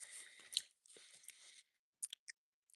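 Lunch being chewed close to the mic, with a stretch of soft, moist mastication followed by a few short crunchy bites and clicks.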